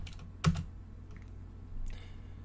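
A few computer keyboard keystrokes typing a pip install command at a command prompt, one sharp close tap followed by faint clicks and a soft burst near the end, quiet room hiss underneath.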